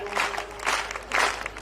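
Audience clapping at a Hindi comic poetry recital, rising in three short bursts of applause from a crowd, moderately loud and close, with no talking over it.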